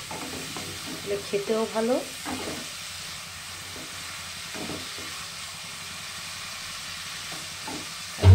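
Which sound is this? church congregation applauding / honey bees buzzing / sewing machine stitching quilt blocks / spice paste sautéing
spice paste sautéing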